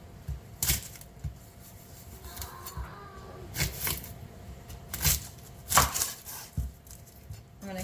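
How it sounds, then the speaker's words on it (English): An onion being chopped with a knife on a cutting board, heard as sparse, irregular sharp knocks spread across a quiet stretch, fairly close but soft. "Now we chop our onion."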